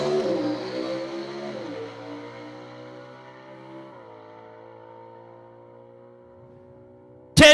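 A drag race car with a Ford small block engine at Cordova Dragway drones away into the distance, its engine note fading and dropping steadily until a sudden loud burst at the very end.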